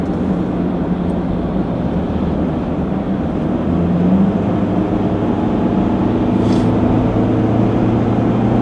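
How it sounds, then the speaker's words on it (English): A car driving on a paved road at about 40 miles an hour gives a steady, continuous rumble of engine and tyre noise throughout, loud and close, with no talking. "right now we're driving 40 miles an hour"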